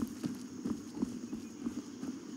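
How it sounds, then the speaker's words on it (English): Horse hooves clip-clopping in the video game Skyrim, a steady walking rhythm of soft, evenly spaced thuds close by over a low background hum. "this is my horse Shadowmere"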